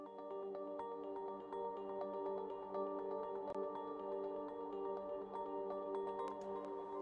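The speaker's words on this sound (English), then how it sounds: "that's two instances of electric pianos playing the same thing, just one's an octave higher" Two Rhodes-preset electric pianos on FL Keys play the same arpeggio an octave apart, forming a soft, steady, atmospheric wash of repeating notes with no talk.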